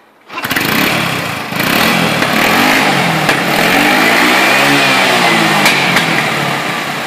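A GY6 150cc scooter engine fitted with a retro performance exhaust fires up and settles into a loud, steady, raspy idle that runs on uninterrupted, close to the microphone.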